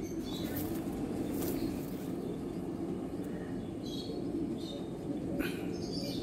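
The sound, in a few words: female golden eyes pigeon cooing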